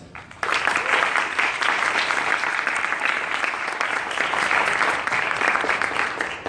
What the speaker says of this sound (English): let's give a round of applause to all of our panelists for coming out tonight